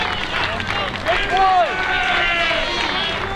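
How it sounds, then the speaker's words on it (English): Baseball crowd noise at a summer collegiate game, a steady broad murmur of spectators with scattered shouts and a brief rising whistle-like cheer in the middle, continuous and moderately loud throughout. "Crowd remains into it."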